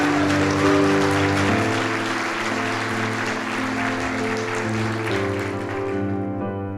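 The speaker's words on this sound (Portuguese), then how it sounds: "Dá um aplauso a Jesus." Church congregation applauding at a Sunday service, steady loud clapping from many hands that carries on throughout, with a musical tone sustained underneath.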